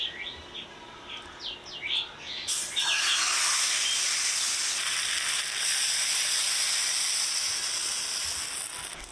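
Patishapta batter for an eggless cake dessert is ladled into a hot oiled pan and breaks into a loud, steady sizzle that starts abruptly and holds for several seconds, after brief faint birdsong in the background.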